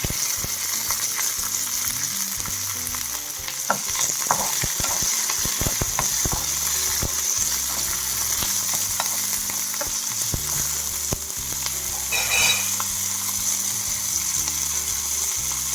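Green and dry chilies frying in oil with cumin seeds while making crispy black-eyed pea vadas, a steady close sizzle broken by scattered crackles and stirring clicks throughout.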